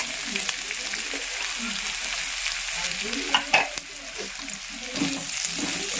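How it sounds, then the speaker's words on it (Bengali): Ginger and garlic sizzle in hot oil over a high flame for fried rice, with steady frying hiss and occasional scraping stirs of a spatula in the pan. "জিঞ্জার আর গার্লিক দিয়ে দিলাম, এবারে একে একে সব কিছু দেবো।"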